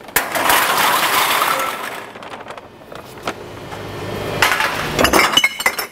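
Glass containers of mixed colors crash and clink as they are dropped into a household recycling bin, loud shattering bursts early on, then quieter rattles before a second cluster of sharp breaking near the end.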